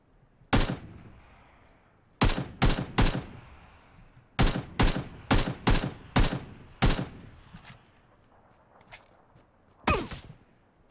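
Gunfire in the battle royale game PlayerUnknown's Battlegrounds: sharp, loud shots, some single and some in quick clusters of two to four, spaced across the stretch with quiet gaps between.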